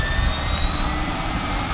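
A small skydiving plane's engine runs in a steady, loud, close drone with a constant roar and no breaks, heard from inside the cabin in Tennessee.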